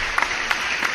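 Short burst of applause during a live Q&A, a few sharp claps standing out from a steady wash of clapping at moderate volume.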